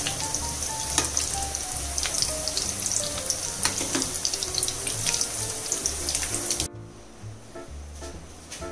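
Beef cutlets frying in oil in a frying pan, a steady dense sizzle with faint clinks and water-like hiss running throughout, dropping to a quieter, duller sizzle near the end.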